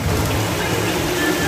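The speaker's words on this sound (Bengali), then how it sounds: "বৃষ্টি পড়ছে বাইরে একটু দেখাই তোমাদেরকে" Steady rain falls outdoors during a downpour, a continuous broadband hiss of drops on surfaces, fairly loud and even throughout with no voices over it.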